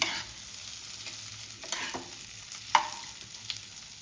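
Pulao rice and ingredients frying in a pan with a steady soft sizzle, punctuated by several scraping stirs of a spoon, the loudest around the middle and near the end.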